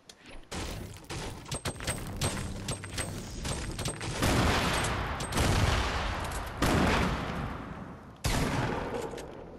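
Shotgun and other gunfire in a Fortnite match, bursts of sharp shots followed by heavier blasts and clattering, loud and close, with no talk heard.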